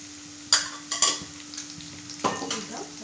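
Curry leaves and turmeric frying in a pan for tamarind rice, heard as a quiet sizzle punctuated by a few sharp metallic clanks and scrapes of a spoon against the pan, close by, with no talking.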